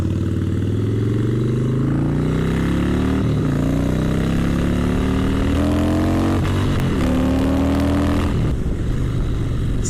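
A 2017 Harley-Davidson Softail Slim S is ridden along a dual carriageway. The engine rumbles loud and close as it climbs through the gears, with rising pitch sweeps broken by brief dips at each shift, over steady wind noise.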